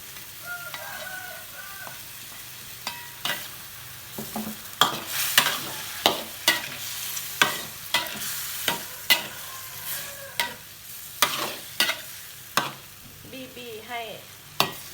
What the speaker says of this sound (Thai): ใส่น้ำตาลทรายเสร็จแล้วก็ คนให้เข้ากันนะคะ